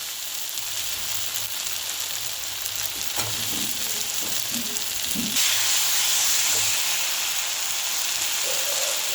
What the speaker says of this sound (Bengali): এবার এর মধ্যে দিয়ে দিচ্ছি মটরশুঁটি।